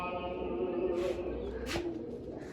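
A pigeon gives a short, low cooing call at close range over a steady background hum. There are a couple of soft rustles.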